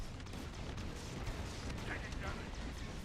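Rockets slamming into the turrets of a CR90 Corvette in the space-combat game Star Wars Squadrons, a dense rumbling barrage of blasts and booms that keeps up without a break, with a voice talking over it.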